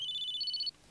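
A mobile phone rings with a short, rapid electronic trill that shifts pitch partway and then cuts off abruptly, leaving quiet room noise.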